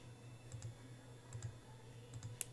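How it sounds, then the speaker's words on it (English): A computer mouse clicking while browsing a toy store website, a few faint, quiet clicks in pairs, close and isolated over a low steady hum. "So I'm going to click there"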